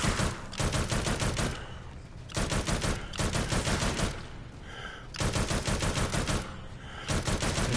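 Aircraft machine guns in a video game fire in long, loud, rapid bursts, three or four sustained volleys separated by brief pauses, with no talk over them.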